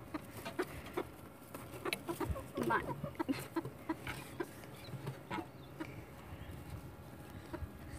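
Backyard chickens cluck and murmur softly in short, irregular bursts, fairly faint and close, mixed with rustling and scattered taps, while a person speaks briefly.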